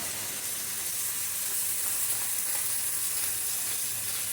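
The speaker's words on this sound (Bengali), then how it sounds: "আর তিনটা পেঁয়াজ নিয়েছি কুচিয়ে এখন দিয়ে দেব" Three chopped onions hiss and sizzle in hot oil in a pan, a steady, dense frying crackle that stays loud and even throughout with no talking.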